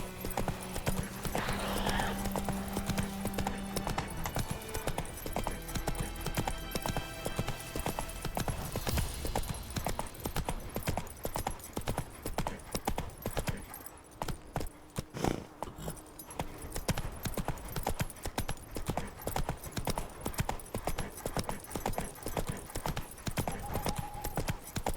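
Roach the horse gallops in The Witcher 3, a steady rapid clip-clop of hooves running throughout, loud and close, with a brief whinny near the start.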